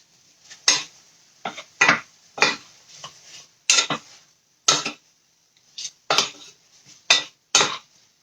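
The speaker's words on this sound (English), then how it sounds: "Let me give it a stir." Sausage, onions and peppers being stirred in a pan: a dozen or so sharp clinks and scrapes of a utensil against the metal, spaced irregularly at close range, with near silence between strokes.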